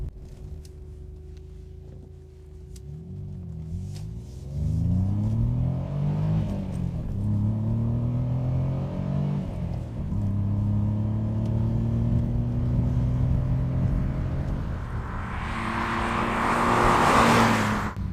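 A 1990 Ford Sierra 4x4 (Merkur XR4x4) engine heard from inside while driving, idling low before climbing through rising and falling revs with gear changes, loud and steady, ending with a burst of road and wind noise.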